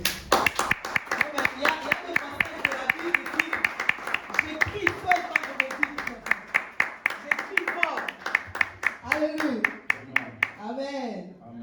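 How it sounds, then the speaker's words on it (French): A church congregation claps in a fast, steady rhythm, with voices calling and singing over the beat until the clapping thins out near the end. "Est-ce que tu peux acclamer?"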